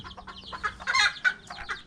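Bantam chickens in a coop cluck in short, choppy bursts, close and fairly loud, with a few sharper squawks rising in the middle.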